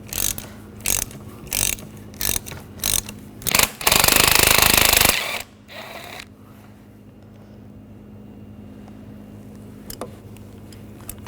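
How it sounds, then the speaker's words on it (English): Ratchet with a 13mm socket backing nuts off a Jeep Grand Cherokee brake master cylinder: a few short bursts of rapid clicking, then a longer loud stretch of continuous ratcheting, fading into quiet shop background. "Using a 13mm socket, take the nuts off."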